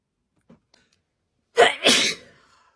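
Two sharp, loud sneezes burst out close to the mic in quick succession during an allergy attack, following near silence broken only by a couple of tiny clicks.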